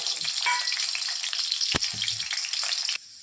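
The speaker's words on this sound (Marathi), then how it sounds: "आता फोडणी टाकत आहोत दोन पळ्या तेल घेतलंय लसूण आणि कडी टाकतात" Garlic and curry leaves spluttering in hot oil for a tempering, a loud bright crackling sizzle with one sharp clatter midway, continuous until it cuts off near the end.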